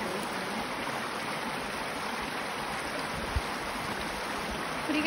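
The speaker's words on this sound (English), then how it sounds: "All we hear is the babbling brook." A babbling brook flows in the countryside with a steady, soft rushing and trickling of water, continuous and fairly quiet, with no voices.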